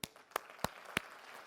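A small scattered audience at a conference session gives a few separate claps, four distinct sharp hits spaced roughly a third of a second apart, faint and with no talk over them.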